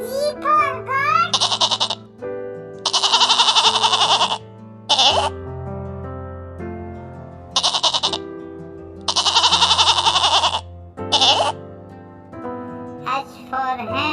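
Several loud, wavering bleats ring out in bursts with pauses between, over a musical backing, sounding like a goat calling repeatedly.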